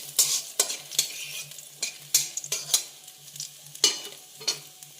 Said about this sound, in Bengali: তেলের মধ্যে দিয়ে দিলাম কাঁচা বাদাম। দিয়ে কাঁচা বাদামটাকে ভালো করে একটু ভেজে নিব।